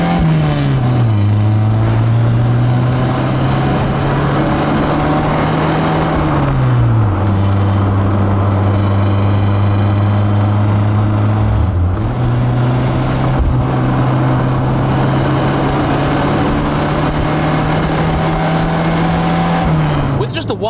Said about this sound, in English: I am now going to turn around and give this car a bit of welly